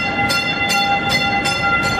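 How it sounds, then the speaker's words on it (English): An MBTA Green Line D train on the Medford extension arrives at a station, a loud steady rumble with tonal whine and regular rhythmic clacks roughly every half second, close by. "The first outbound train to Medford Tufts is now arriving"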